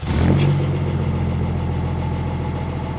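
A Range Rover P38 fitted with a swapped BMW M57 3-litre turbo diesel runs steadily as it drives, giving a loud, continuous low diesel drone that swells briefly at the start.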